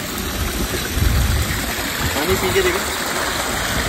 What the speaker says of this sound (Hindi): हाँ बहता हुआ पानी है